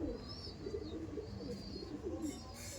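Andhra pigeons coo softly in a loft for sale, low rolling murmurs repeating over about three seconds amid faint background noise and high chirps, fairly quiet and a bit distant.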